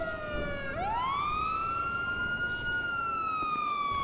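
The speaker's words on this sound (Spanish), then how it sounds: "Voy a quitar la sirena y le hago la foto al coche." A police car siren in a video game roleplay wails steadily, rising and then holding a long tone, loud and continuous over faint background noise.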